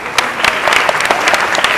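An audience at a Pakistani call-to-prayer recitation competition claps loudly and continuously, a dense close patter of many hands that holds steady without pause.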